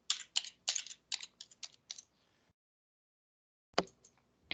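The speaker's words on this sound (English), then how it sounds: "I'm just going to type a birth date in here." Computer keyboard keys are tapped in a quick burst of about ten close, crisp clicks, then a pause of over a second, then two or three more taps, quiet and with no talking.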